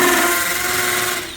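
An electric drill set to hammer mode bores into a plaster wall to fix a curtain pole bracket. A steady, dense grinding whine runs close and loud, easing off slightly toward the end.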